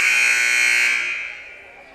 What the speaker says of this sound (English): So the buzzer will sound